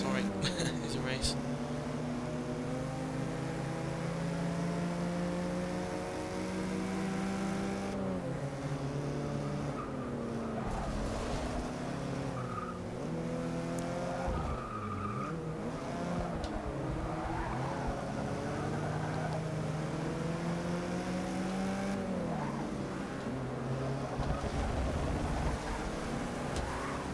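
Race cars in Forza Motorsport 6, including a Porsche and an Aston, roar through a long stretch of racing, their engines surging and dropping through gears while tires squeal and skid in corners.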